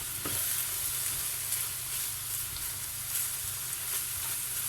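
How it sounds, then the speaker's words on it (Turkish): Butter melting in a pan for içli köfte gives a soft, steady sizzle and crackle that holds at an even, moderate level close by, with no one talking. "Şimdi tereyağım erisin."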